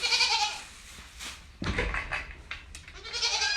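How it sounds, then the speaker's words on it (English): A baby goat bleats repeatedly, high and quavering, close and fairly loud, with a few handling bumps in between and no speech. "he's going to bring out the first baby goat"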